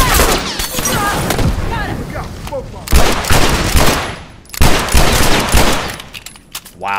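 Gunfire in The Last of Us Factions, an online multiplayer shooter: loud, sustained bursts of rapid shots in two long volleys separated by brief pauses, with a player's voice talking over the shooting.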